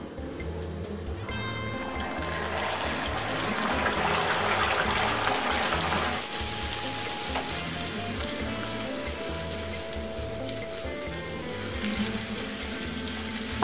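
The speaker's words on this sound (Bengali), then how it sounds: "তেলটা আমার গরম হয়ে গেছে। এবার আমি এই ভাটুরাগুলো ভেজে নেব।" Bhature fry in hot white oil in a deep wok, giving a steady, dense bubbling sizzle that runs the whole time beneath soft background music.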